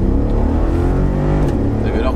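A Mercedes-AMG G63 6x6 pulls away in first gear, its engine note loud and close as it builds steadily, with people talking inside the cabin over the rising drone.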